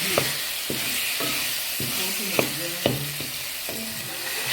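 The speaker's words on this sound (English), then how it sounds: "I'm trying to press the pork so that it can be able to release the oil" Pork frying with tomatoes and onions in a sufuria, a constant close sizzle broken by rhythmic scraping and pressing strokes of a spoon against the pan, several evenly spaced knocks, with no voices.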